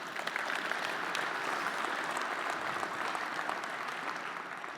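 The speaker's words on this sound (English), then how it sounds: "So let's welcome Carrie with a big round of applause." Steady audience applause at a continuing-improvement conference fills the whole stretch, a dense even wash of many hands clapping without a break and no voices on top.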